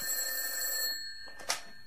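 A telephone rings in a Finnish comedy sketch set in a government ministry, a shrill, steady ring that stops partway through, followed by a brief click as the receiver is picked up.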